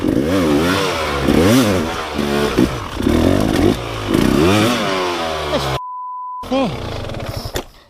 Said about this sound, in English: I'm moving about 1 foot every time I start the bike